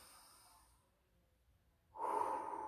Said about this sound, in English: That's a nice full breath.